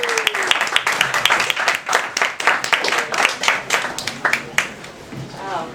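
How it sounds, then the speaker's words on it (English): Audience at an open mic night clapping for a performer, a small crowd's distinct individual claps forming an uneven rhythm, fairly close and loud, thinning out and fading near the end as a voice begins. "Let's have a big round of applause for New York legend, Susan Kirschbaum, everybody"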